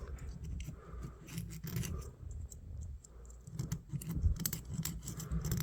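Close, quiet scratching and scraping of a tool working dirt out of a vintage Hammer Brand Barlow pocketknife, in short uneven strokes with small clicks, no talking.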